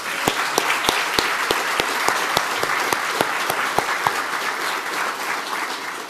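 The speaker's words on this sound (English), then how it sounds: "I think that they deserve a round of applause." An audience at a children's charity event claps in sustained, even applause, with one nearby pair of hands cracking out sharp, regular claps above the dense crowd clapping.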